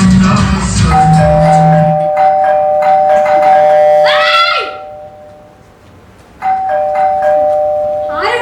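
A two-tone electronic doorbell chime rings out loudly over Hindi film song music and voices, sounds once, fades into near silence, then starts again, set within a staged comic scene at a cultural festival stage performance.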